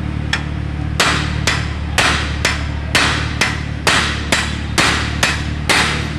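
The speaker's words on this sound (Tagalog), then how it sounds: "Ito, napapaluin lang natin." Hammer blows knocking loose a tie rod end on a Mitsubishi Adventure: about eleven sharp metallic strikes in a steady rhythm, roughly every half second, loud and close, with a low hum underneath and no talking.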